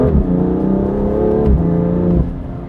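A BMW F87 M2 Competition with a dual-clutch transmission and full bolt-on modifications accelerates hard nearby, its engine note climbing steadily with two quick gear shifts that briefly drop the pitch before it rises again.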